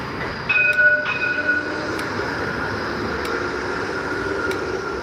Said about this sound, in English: and here is a tram.